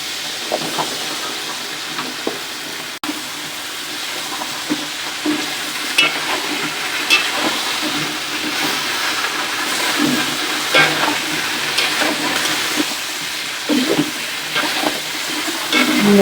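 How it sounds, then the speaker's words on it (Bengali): Bottle gourd and spices are stirred in a hot frying pan: a steady sizzle with repeated scraping and clacking of the spoon against the pan, close up and continuous, with no voices. "আমরা মশলার সাথে লাউগুলো ভালো করে মিশিয়ে নিচ্ছি।"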